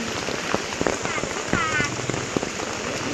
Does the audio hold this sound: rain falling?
yes